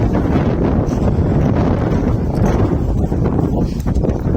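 Strong wind buffets the microphone throughout, a constant low roaring rumble with no voices.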